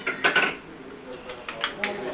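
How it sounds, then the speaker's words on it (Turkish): An old Ottoman-era bowl handled among other metal and dish items, giving several close, bright clinks and knocks spread out in an uneven rhythm, with no speech. "Çok Osmanlı'dan kalan bir tas."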